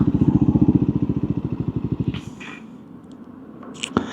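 Triumph Scrambler 400X motorcycle slowing as it pulls in off the motorway: a close, loud engine with a rapid pulsing thrum that winds down and fades into idle and wind, with a couple of sharp knocks toward the end.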